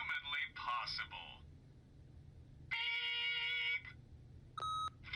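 An answering machine in the video game The Wolf Among Us gives a bright electronic beep of steady stacked tones lasting about a second, then a shorter second beep, following a recorded voice greeting over a low background hum.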